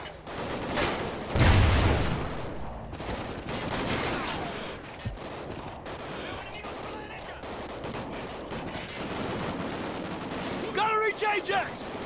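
Call of Duty: Ghosts combat gunfire, a dense rolling wash of shots and blasts with a heavy boom early on, sustained at middle distance with game voices shouting over it.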